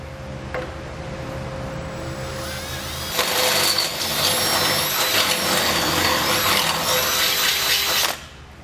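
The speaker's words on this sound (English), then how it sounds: "take our drill bit, the size is indicated in the instructions, and drill a hole into our frame rail" A power drill grinds into the steel frame rail of a 2020 Jeep Wrangler for about five seconds, loud and steady with a high whine, preceded and followed by a low background hum.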